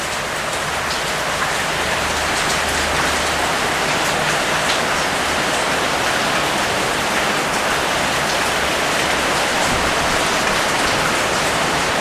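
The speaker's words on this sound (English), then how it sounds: "and it is pouring with rain" Heavy rain pours down steadily before sunrise, a dense, continuous hiss of drops drumming on surfaces that stays loud and unbroken throughout, with no talking.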